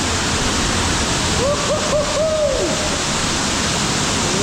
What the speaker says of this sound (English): Now that is a freaking waterfall.